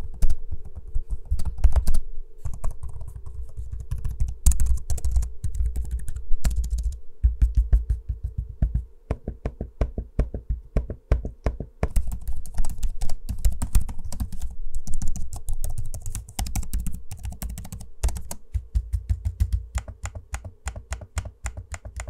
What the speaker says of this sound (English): I'm gonna give you an audio sample of both the keyboards and trackpads in use so you can hear those for yourself.